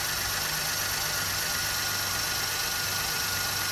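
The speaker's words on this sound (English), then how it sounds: "Let me let you guys hear what the engine sounds like." An Acura Honda car engine idles steadily up close after throttle body and MAF sensor cleaning, a smooth, even hum with a faint rhythmic ticking and no voices.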